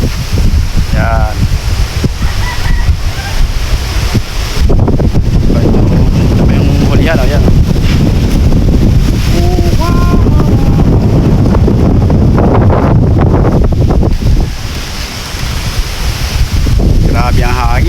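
Strong habagat monsoon wind buffets the microphone around a tall wooden boat under construction, a loud continuous rumbling roar with gusts throughout, while people talk over it.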